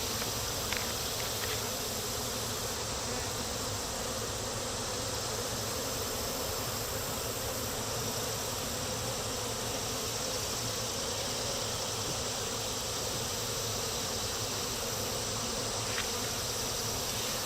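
Honeybees swarm around an open hive, their loud, close buzzing forming a dense, unbroken drone that runs steadily throughout with no pauses.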